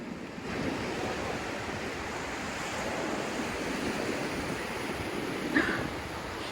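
Ocean surf rolls steadily onto the sand at Rockaway Beach in New York City, a continuous near wash of breaking waves with wind buffeting the microphone and a brief louder surge near the end.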